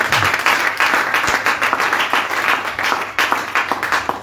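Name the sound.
church congregation applauding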